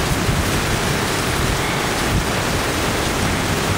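Steady rain pours in Calabria, Italy, a dense, even hiss of drops striking surfaces close by, loud and unbroken with no voices.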